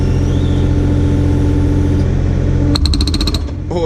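Hydraulic hammer attachment on a Kubota excavator pounds in a rapid, loud burst near the end, following a steady heavy engine drone and rumble up close.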